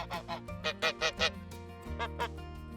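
Farm geese honk close by in a run of loud, nasal calls, a quick burst of several honks followed by a few more after a short pause, in winter.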